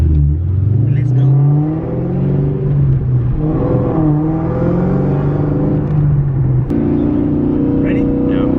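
A 600+ horsepower Cobra on a test drive gives a loud, deep engine drone that climbs steadily in pitch as it accelerates, with a brief dip and a fresh rise near the end, heard from inside the car.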